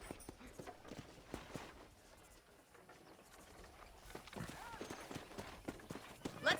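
Rhythmic horse hooves in Red Dead Redemption clop along at a steady pace, fairly soft, with voices talking over parts of it and a brief whinny at the end.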